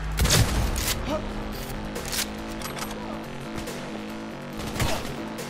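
Gunfire in Cyberpunk 2077, several loud, sharp bursts of shots at irregular intervals with a steady tonal hum of game background between them.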